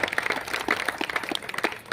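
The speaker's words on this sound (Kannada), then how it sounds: "ಜೋರಾಗಿ ಚಪ್ಪಾಳೆ ಬರ್ತದೆ" A crowd of parents claps at a government Kannada boys' and girls' school meeting in Belagavi, a short burst of scattered, moderately loud applause without any talk.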